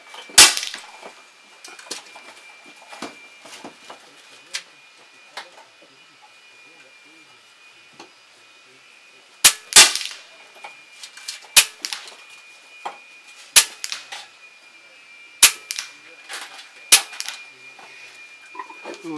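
Air rifle shots fired outdoors in gusty wind with JSB Hades pellets, a Steyr rifle fitted with a Pulsar scope: a handful of sharp, spaced cracks, some in quick pairs, over a steady faint background hum.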